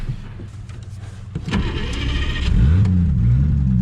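An abandoned 1948 Studebaker that sat for 35 years cranks briefly, then fires up. Its engine catches into a loud, rough, steady idle close by.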